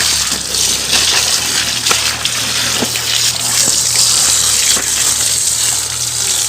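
Tap water gushes steadily over a school bag being rinsed clean of mud, a continuous broad splashing rush with occasional small knocks and scrapes, close and loud throughout with no talking.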